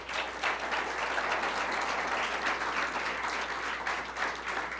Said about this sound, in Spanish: Yo le daría un aplauso al Señor.